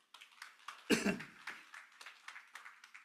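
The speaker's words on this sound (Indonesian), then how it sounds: "berikan tepuk tangan buat dia" A church congregation gives a brief, scattered round of applause, soft and somewhat distant, with individual claps tapering over a few seconds.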